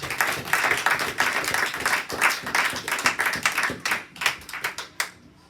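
A church congregation claps and applauds loudly with cheering, steady rhythmic clapping that thins into scattered claps before fading out.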